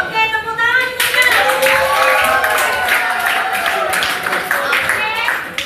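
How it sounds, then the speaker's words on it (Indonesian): Classroom audience of students clapping together in a lesson on colonialism in Indonesia, fairly loud and steady, with voices and a teacher talking over it. "tepuk tangan juga"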